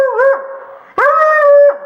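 A dog at close range lets out two loud, drawn-out howling barks, each holding a tone before falling away, with a short gap between them and no talking.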